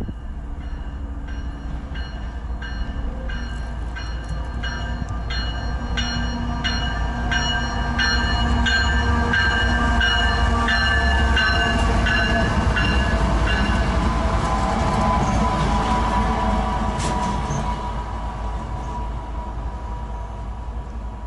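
Freight locomotives run as a light engine move behind an intermodal train along the Delaware River line, a steady loud rumble with rhythmic clickety-clack of wheels over rail joints and a faint horn, passing close by with no talk.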